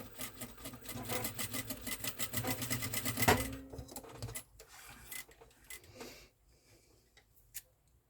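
A sewing machine runs in a fast, steady rattling stitch through four layers of fabric at a shirt collar, loud and close for about three seconds before slowing and stopping, with a few quieter clicks afterward.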